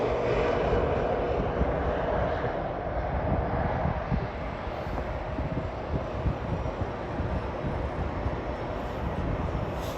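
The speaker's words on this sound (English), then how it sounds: "A little private jet, there you go." A small private jet arriving at Toronto Pearson airport produces a steady, broad engine roar that holds for the whole stretch, fairly loud and continuous with no talk.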